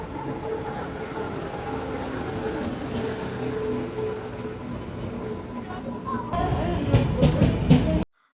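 A train pulling into a railway station on a trip to Varkala, a continuous rumbling roar with tonal hum, louder and harsher toward the end before cutting off.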